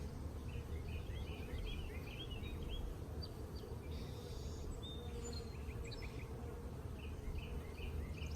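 Dense, steady buzzing of many honeybees swarming around a brood frame as hives are split, a constant close hum with a few faint birdcalls in the distance.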